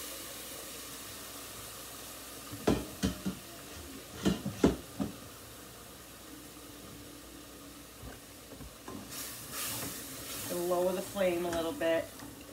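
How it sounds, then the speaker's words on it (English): Shrimp sauce simmers in a hot bowl with a faint low sizzle and hiss, joined by a few sharp utensil clicks and a louder burst of bubbling toward the end, while a person talks over it. "it's better keeping it on a lower simmer because you don't want the shrimp to overcook"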